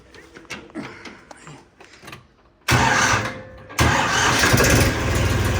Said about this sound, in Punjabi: ਆਵਾਜ਼ ਪਿਆਰੀ ਆ ਇਸ ਟਰੈਕਟਰ ਦੀ